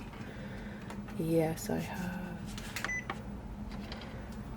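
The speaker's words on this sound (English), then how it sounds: "This is my printer saying it doesn't like what I'm about to do." A desktop printer in a craft studio gives a short series of close electronic beeps, a brief rising tone pattern standing out over a low room hum, with a person speaking briefly.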